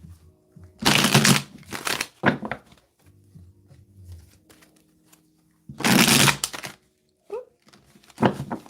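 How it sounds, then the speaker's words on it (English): Two brisk riffle shuffles of a tarot deck, close and crisp, with light tapping and handling of the cards between them. "Didn't like that shuffle. Let's do one more."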